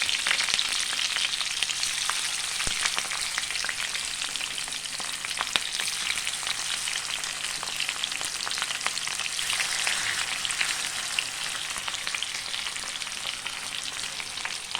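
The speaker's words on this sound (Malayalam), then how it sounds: "മീൻ നന്നായിട്ട് നമുക്ക് വറുത്തെടുക്കാൻ പറ്റും" Fish pieces frying in hot oil over curry leaves in a pan, a loud, steady, close crackling sizzle that carries on without a break, with no voices.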